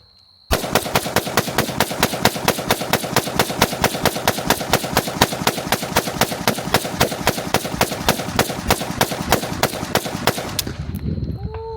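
A Zastava M70 rifle emptied in one long magazine dump, rapid shots cracking in a steady, relentless rhythm for about ten seconds before abruptly stopping and leaving a ringing tail.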